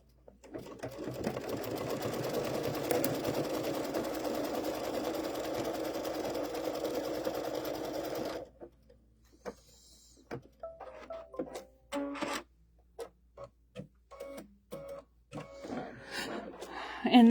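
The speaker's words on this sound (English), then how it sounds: "And now we're going to do the same thing for the bottom. Stitch our placement line." An embroidery machine stitches a placement line on an in-the-hoop pumpkin potholder, a steady rapid whirring hum for about eight seconds, then stopping, followed by scattered clicks and handling taps.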